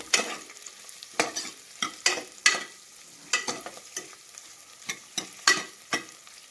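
Green chillies crackle and spit in hot oil in a pan, a run of sharp irregular pops and stirring scrapes over a low sizzle, close and fairly quiet, no voices.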